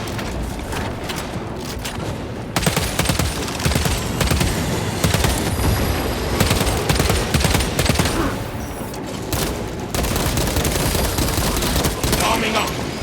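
Sustained bolter gunfire in Warhammer 40k Space Marine 2, dense rapid bursts of heavy shots with booming impacts that run almost continuously, loud and close, with brief lulls and a burst of fresh firing near the end.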